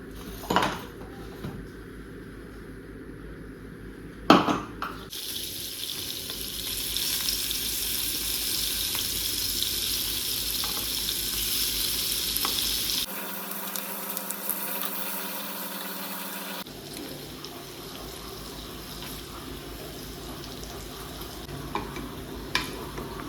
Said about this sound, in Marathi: पनीरचे तुकडे तळण्यासाठी मी इथे पॅनमध्ये तूप टाकून घेतलं आहे